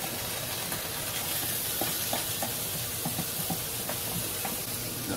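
Margarine melting in a hot pan, giving a continuous loud hiss and sizzle with small crackles and pops scattered through it and no voices.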